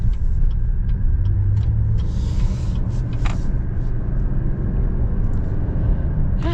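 A new Buick Enclave SUV rounds a corner, giving a steady low engine and road rumble heard from inside the cabin, even and continuous with no talk.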